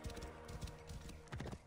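Horse hooves clip-clopping at a steady trot in the Assassin's Creed Origins video game, a quick regular rhythm of soft thuds, faint and distant, with no voices.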